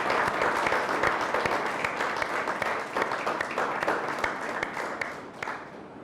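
A church congregation applauds vigorously during a Sunday worship service, producing dense, continuous clapping that holds steady for several seconds and then fades slightly toward the end.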